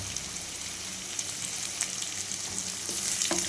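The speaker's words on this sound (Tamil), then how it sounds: "நல்லா கிளறி விடுங்க. வெங்காயம் வதங்கிறதுக்கு சால்ட்டு கொஞ்சம் ஆட் பண்ணிக்கலாம் ஃப்ரெண்ட்ஸ்." Onions fry with salt in a pan, sending up a bright continuous sizzle, with a few scraping knocks from stirring near the end.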